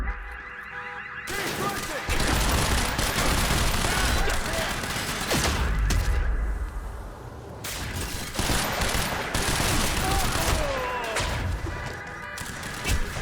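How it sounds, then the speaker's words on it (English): Light machine gun in the video game Quantum Break firing long sustained bursts of dense rapid gunfire with impacts and crashes, loud and continuous over several seconds, broken by short pauses, with shouted voices mixed in. "we'll get the LMG to show you guys what it's like"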